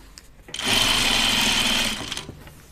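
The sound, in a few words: sewing machine stitching dress hem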